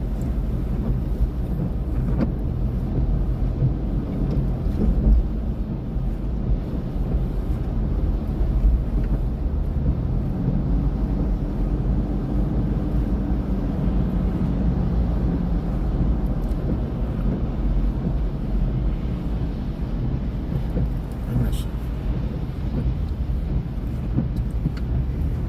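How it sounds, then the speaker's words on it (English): Steady road traffic rumbles around a car driving from Toronto toward Niagara Falls, an even low drone of engine and tire noise that holds without a break and with no talk. "This area always has some kind of traffic."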